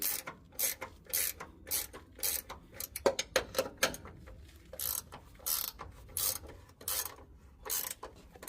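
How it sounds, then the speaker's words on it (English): A ratchet wrench turns a nut during a 2-inch rear lift install on a 2021 Chevy Suburban, producing repeated short bursts of rapid clicking with brief pauses between strokes, close up and with no voices. "So I just went with the ratchet wrench."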